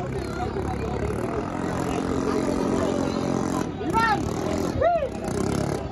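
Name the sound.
racing boat engine running at full throttle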